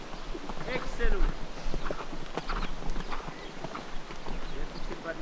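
A horse cantering in a show-jumping riding arena over cavaletti, its hoofbeats thudding in a steady three-beat rhythm at moderate distance under a coach's spoken instructions and some wind.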